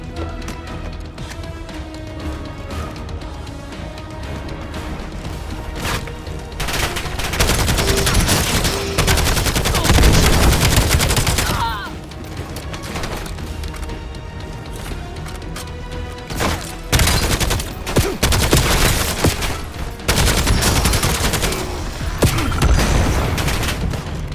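Gunfire in the video game Call of Duty Black Ops 7, dense automatic bursts and single shots crackling loudly, swelling into heavy sustained fusillades with booming impacts, no voices over it.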